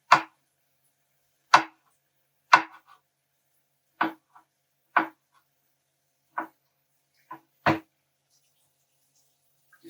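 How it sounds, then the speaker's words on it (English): Kitchen knife slicing mushrooms on a cutting board, eight separate crisp chops spaced about a second apart, close and clear against silence. "You take the mushroom and you slice them up."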